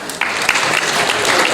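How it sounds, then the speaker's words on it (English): An audience at a high school recognition assembly breaks into applause. It starts suddenly and holds as a dense, fairly loud patter of many hands clapping together. "then we can applaud them all together"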